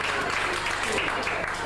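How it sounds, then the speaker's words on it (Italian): Crowd applause at a prize-giving during the 1995 Prima Corridona Sardarese event, a steady wash of clapping heard at a modest level, with voices mixed into the background. "Un bel applauso ancora, dai, che la foto viene meglio."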